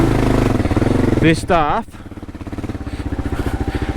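A motorcycle on Bridgestone AX41 adventure tyres revving as its rear wheel spins in mud, a close, pulsing engine note that rises and falls, with the rider talking briefly over it.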